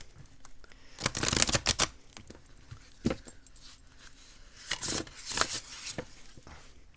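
Gilt-edged tarot cards are shuffled close by in several quick riffling bursts, fairly quiet, with short pauses between.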